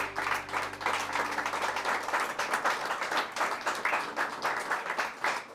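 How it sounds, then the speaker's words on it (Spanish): A church congregation claps in praise to God, a dense, even applause from many hands that holds steady, moderately distant, with faint voices underneath. "Si hay un corazón agradecido y le pueda dar un aplauso a su Dios."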